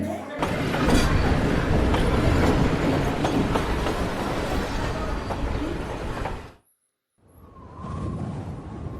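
A train roars past at speed, its loud, dense rumble and clattering wheels filling several seconds before cutting off abruptly, after which a fainter rail rumble returns.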